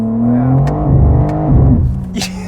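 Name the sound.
2023 BMW M4 CSL engine revving through quick gear shifts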